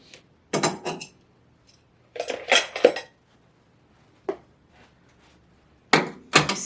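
Small vintage china plates clink and clatter as they are handled, in three short bursts of sharp ceramic knocks separated by quiet pauses, close and fairly loud.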